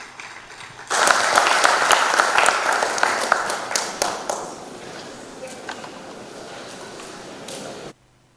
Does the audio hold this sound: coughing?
no